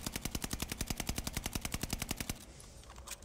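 Rapid automatic gunfire from a tracer pack weapon in Call of Duty Vanguard, a fast even burst of about twenty-five loud shots lasting two seconds, then fading reverb.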